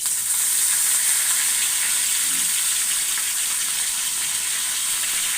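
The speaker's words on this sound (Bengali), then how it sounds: "চুলাতে কড়াই বসিয়ে তেল দিয়ে দিয়েছি এবার আমি চেপা শুটকির কোপ্তাগুলি এক এক করে ছেড়ে দিচ্ছি" Dried chepa shutki fish kofta balls sizzle steadily in hot oil in a wok, a continuous close, even frying hiss throughout with no talk.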